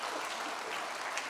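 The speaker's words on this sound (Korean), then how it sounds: "여러분 박수로 축복해 주시기 바랍니다." Brief, soft applause from a church congregation blessing newly baptized members during a Korean Presbyterian service, a short steady patter heard from a distance.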